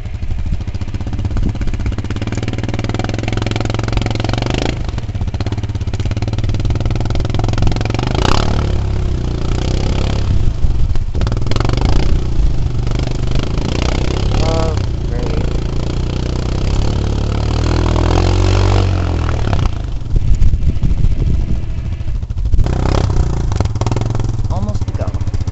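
An off-road vehicle's engine rumbles and revs unevenly while stuck in deep mud, with clattering bursts and surges throughout, and people's voices come and go over the engine noise.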